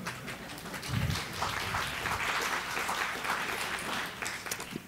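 An audience at a conference claps steadily, moderately loud but somewhat distant, the applause sustained throughout with a brief low thump near the start.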